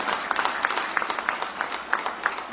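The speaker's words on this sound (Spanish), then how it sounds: "Y yo quiero pedir un fuerte aplauso para nuestros compañeros de la dirigencia magisterial." An audience at an education results presentation applauds, a dense patter of many hands clapping at moderate distance, steady and fairly soft throughout.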